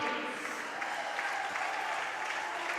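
A gym crowd applauds a 7th grade volleyball state champion during a medal ceremony, an even, sustained roar of clapping heard from some distance with little variation.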